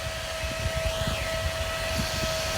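Small cooling fan spinning at 5,600 RPM on a KSO-Pro device, a steady whirring hum with a constant tone and broadband rushing noise throughout, fairly loud and continuous with no talking.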